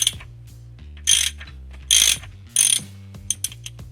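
A ratchet with a 15 mm socket loosens a cylinder head bolt on a Chrysler 3.5 L engine. Three loud bursts of rapid clicking stand out over a low background hum, with a few fainter taps and clicks scattered between them.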